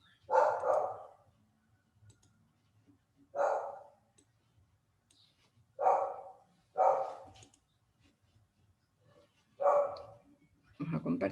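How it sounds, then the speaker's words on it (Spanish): A small dog barks in separate short bursts several seconds apart, fairly close and loud against a quiet room, with a faint low hum between barks. "hay por ahí un perrito molestando"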